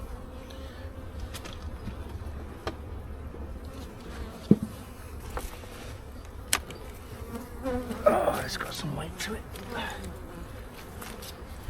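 Honeybees buzz in a steady low hum during a first hive inspection in early spring, close by, with a person talking and occasional clicks and knocks of frames being handled.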